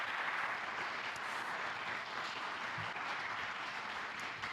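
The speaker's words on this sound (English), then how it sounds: "I'd ask that we give our speakers a round of applause for the excellent presentations" Sustained audience applause at a symposium, steady and dense clapping from a full room, fairly distant and even throughout with no talk over it.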